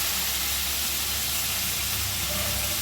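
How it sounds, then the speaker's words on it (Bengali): Water poured into a pan of spiced potatoes frying for a fish curry sets off a loud, steady, close hiss that fills the whole moment without a break. "এবারে জল ঢেলে দিল।"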